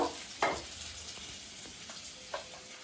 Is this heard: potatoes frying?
yes